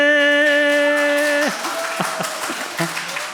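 Audience applause breaks out just as a sung Buddhist chant about Amitabha ends, with the last sustained note fading into steady clapping from a hall full of listeners at a temple lecture.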